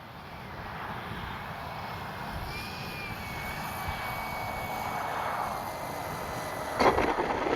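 An FMS 1400mm Pitts V2 radio-controlled model biplane coming in to land on a windy day, a steady droning engine under wind noise at moderate distance, ending with a brief touchdown bump, no talk.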